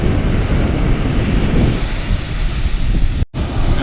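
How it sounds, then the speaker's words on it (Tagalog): Strong wind blowing by the sea, with rough waves and surf, buffets the microphone in a loud, steady roar that drops out for a moment near the end and then returns. "Lakas ang hangin."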